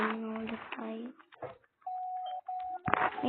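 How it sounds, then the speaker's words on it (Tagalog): A doorbell-style notification chime in a game plays in a few short tones amid talk, with speech before and after it. "Doorbell notify."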